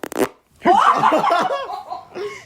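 A short, sharp fart lands right on a podcast microphone, followed at once by loud, close laughter.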